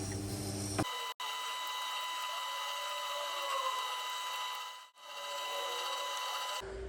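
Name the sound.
chisel being sharpened on a Tormek T8 stone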